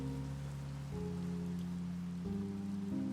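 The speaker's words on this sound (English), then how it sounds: "Oh, it's raining now." Steady rain falling in Minecraft, a soft continuous patter heard faintly under a low droning tone that shifts pitch a few times.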